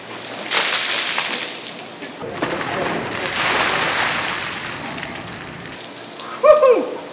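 A heavy gush of ice water from a bucket poured over a person splashes down steadily for several seconds, then stops, followed by a short excited shout.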